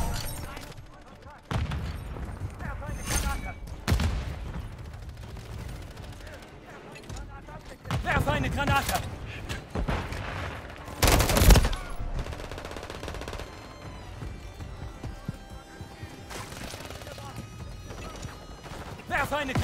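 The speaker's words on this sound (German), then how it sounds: "Stehe unter direktem Beschuss." Rapid gunfire and bursts in Call of Duty MW3 on the Rust map, repeated loud shots and clattering throughout, with in-game voices talking underneath.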